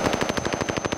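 Rapid automatic gunfire in the online shooter Call of Duty Warzone, a steady stream of sharp close shots at about ten rounds per second, loud and continuous with no talking.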